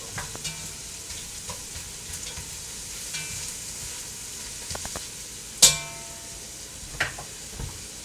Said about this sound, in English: the onions are just lightly sauteed and becoming translucent in a lot of olive oil